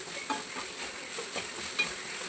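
Onion and coconut sautéing in a pan for a Sunday fish curry, a steady soft sizzle with scraping stir strokes recurring throughout, fairly close and quiet, no voices.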